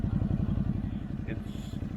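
A Ducati Hypermotard 950 RVE engine pulses in a rapid, throbbing rhythm while riding, a loud steady low rumble close up with a voice talking over it.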